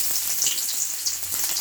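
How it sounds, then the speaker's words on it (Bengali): Chopped onions sizzle and crackle steadily in hot oil in a wok, a close, continuous frying hiss with small pops throughout. "বন্ধুরা তেল হয়ে গেছে, এখানে এই যে পেঁয়াজ কুচি দেবে"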